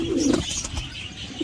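Pigeons give a brief low coo, close and fairly loud, followed by quieter bird sounds.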